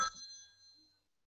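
A phone gives a single bright, bell-like ring that decays quickly into silence.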